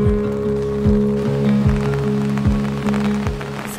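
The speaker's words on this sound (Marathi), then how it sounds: "सकाळपासून खूप जास्त पाऊस पडतोय, आता थोडासा निवळलाय" Monsoon rain in a Konkan village, steady and dense on surfaces nearby, with a low engine-like hum and periodic thuds underneath.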